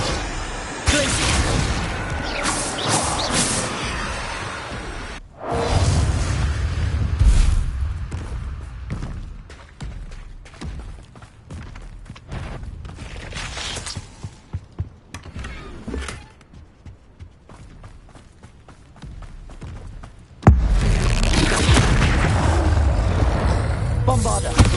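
Bombarda and Confringo spell explosions in Hogwarts Legacy give loud booming blasts and thuds. Several bursts come in separate waves with quieter gaps between them, amid ongoing combat sounds.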